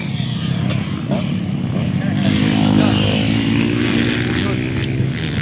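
250cc motocross motorcycles race in an open ladies heat at a Pagadian City motocross event, engines droning loud and sustained with rising revs, while people talk over the noise.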